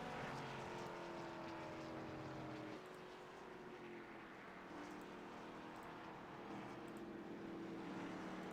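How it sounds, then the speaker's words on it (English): Simulated race car engine roaring continuously through tire-smoking burnouts on the front straightaway of an iRacing oval, a loud sustained drone with rising and falling pitch sweeps and no talking. "I come on the front straightaway and do some celebratory burnouts."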